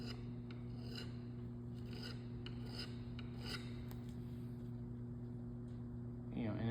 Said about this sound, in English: I can come back to a stone to pull that burr off the outside of this